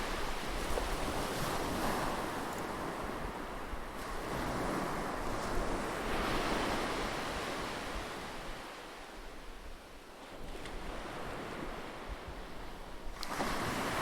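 Sea surf and gusting wind as an ancient Greek ship leaves the shore of Troy in an audio drama; continuous roaring waves swell and recede with wind rush, no voices.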